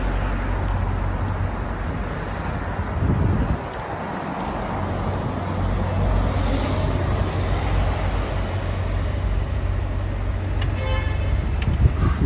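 A car rolls past on a street in a wealthy part of London, a steady engine and tyre roar that swells and lingers amid traffic, with a short horn toot near the end.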